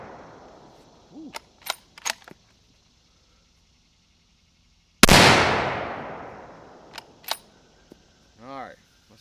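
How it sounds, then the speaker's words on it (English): A single loud, close crack from an unsuppressed Remington 783 .308 rifle firing 150 grain AAC ammo, with a long decaying echo afterward, set among scattered clicks and handling noises. "783 unsuppressed, 308. This is 150 grain AAC ammo."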